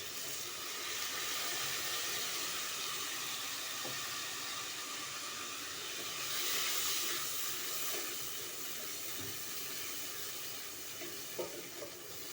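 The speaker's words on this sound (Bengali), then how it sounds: "দিয়ে দিচ্ছি পেঁয়াজের পেস্ট" Onion paste sizzles steadily in a cooking pan, a continuous broad hiss with a brief swell midway and a few faint clicks, no voices.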